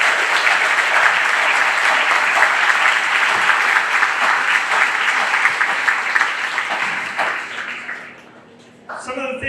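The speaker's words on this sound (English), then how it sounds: "Please give them a round of applause." Sustained crowd applause at a county fair opening ceremony, honoring the fair board directors; steady clapping for about eight seconds that fades out, followed by faint noises near the end.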